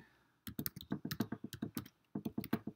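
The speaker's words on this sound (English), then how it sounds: "So I type that in" Typing on a Mac keyboard: after a short pause, a quick run of close, crisp key taps, about twenty strokes in two bursts separated by a brief gap, with no talking.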